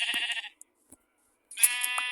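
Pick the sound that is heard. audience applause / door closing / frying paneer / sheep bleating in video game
sheep bleating in video game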